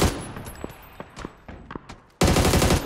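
Gunfire in the battle royale game PUBG Mobile on the Miramar map: a string of sharp, separate shots with short gaps, then a loud, dense burst of rapid automatic fire at the end, close and without talk.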